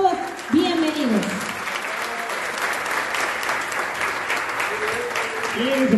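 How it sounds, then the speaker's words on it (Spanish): Crowd applause at a Movimiento Ciudadano municipal commission swearing-in event, steady clapping across the room with voices and shouts mixed in near the start and end. "El aplauso para ustedes"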